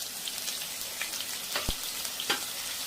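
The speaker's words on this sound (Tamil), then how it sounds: "வெங்காயம் அரைச்சி வச்சுருக்கேன் அதையும் போட்டுடலாம்" Ground onion paste sizzles in hot oil with fennel seeds for a mutton masala gravy, a soft continuous frying hiss with occasional small pops and spatters, close and fairly quiet.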